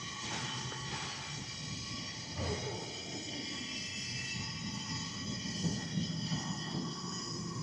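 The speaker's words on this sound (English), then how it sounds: "the train will take off in a second" A train pulls out of Union Station in downtown Los Angeles, a steady faint rumble and hum of rolling cars with a brief squeal midway, heard from the platform at a distance.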